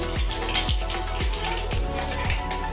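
Panch phoron spices and bay leaves sizzle in hot oil, a continuous loud crackling hiss with repeated low knocks of a spoon or pan.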